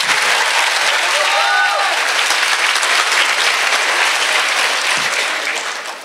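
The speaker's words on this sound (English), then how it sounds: "Let's give all of these wonderful ladies a big round of applause this evening." Loud, sustained applause from an audience at a Distinguished Young Women evening program, steady clapping filling the whole stretch before tapering slightly at the end.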